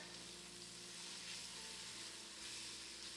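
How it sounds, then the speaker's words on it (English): Onions with salt, crushed black pepper and all-purpose seasoning sizzle in a pan, a dense continuous frying hiss at close range with no talk. "We're going to cook these onions and the ingredients in there until the onions are caramelized"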